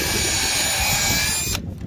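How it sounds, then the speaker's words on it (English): A power drill bores a pilot hole in a steady whirring burst that stops abruptly near the end, loud and close with no talking. "And I always drill a pilot hole."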